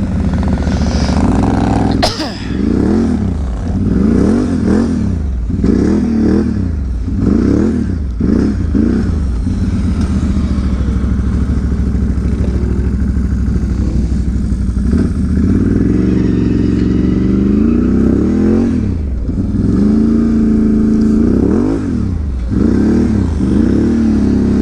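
A Can-Am Renegade XMR 1000 ATV on its first ride, its loud engine revving up and down in repeated bursts close by, with clattering and scraping from rough riding.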